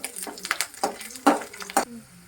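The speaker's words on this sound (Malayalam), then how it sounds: "അടുത്തത് ഇഞ്ചി ഇടാം. അടുത്തതായി കരിവേപ്പില. അടുത്തതായി വെളുത്തുള്ളി. നമുക്ക് ഇളക്കാം." Ginger, curry leaves and garlic stirred in a pan for a sardine pickle, giving several short scraping and clattering strokes at an irregular rhythm with a light sizzle beneath, close and moderately loud.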